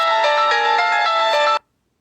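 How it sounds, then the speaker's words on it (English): A phone notification tone plays loud and alone for about a second and a half, a bright, steady chime with a few soft pulses, then cuts off abruptly into silence. "my phone does that. Notifications."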